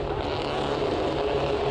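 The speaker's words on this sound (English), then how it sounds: "Revs rise and away we go." TCR touring car engines drone together in a loud, steady roar at the start of a race at Estoril, a dense mass of engine noise with no clear single rev.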